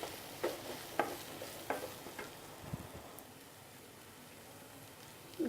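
Sliced green capsicum fries in a pan with a quiet, steady sizzle, while a spoon stirs and scrapes it in several soft, separate strokes.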